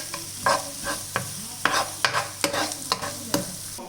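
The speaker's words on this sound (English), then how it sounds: "We'll add some curry leaves. Again saute it." Curry leaves are sautéed in a pan with green chilies, with a constant close sizzle broken by a quick irregular series of sharp spoon scrapes and stirring knocks, and no talking.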